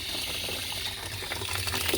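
Water runs steadily out of the 3 bar safety valve of an Immergas Victrix 26 condensing gas boiler, a continuous close hiss and gush with no talk.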